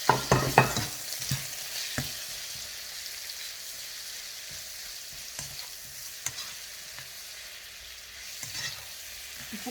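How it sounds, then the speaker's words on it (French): Shrimp and garlic stir-frying in a pan for an Asian noodle dish, a steady soft sizzle with clattering stirs and scrapes at the start, then occasional utensil taps over the continuous frying. "On va ajouter les crevettes."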